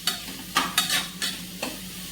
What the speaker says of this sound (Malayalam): നന്നായിട്ട് മിക്സ് ചെയ്ത് ഉള്ളി ഒന്ന് വാടുന്ന വരെ ഇളക്കിയെടുക്കാം